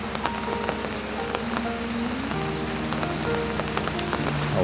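Steady rain falling in a Lao town, a continuous dense patter close by with faint pops of drops, no voices.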